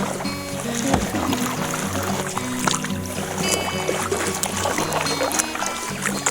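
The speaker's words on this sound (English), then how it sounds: "This is easy paddling now." Canoe paddling across Wet Lake in Quetico, a steady wash of water swirling and splashing around the hull, with continuous moderate-level splashes close by and no talking.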